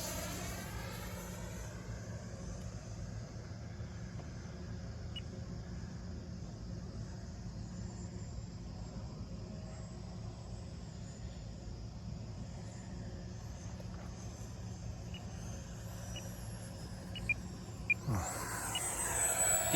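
XFly F-35 RC model jet with lights, retracts and suspension, its ducted-fan engine whining steadily at a distance as it takes off, circles and lands, a continuous airborne drone that swells slightly near the end.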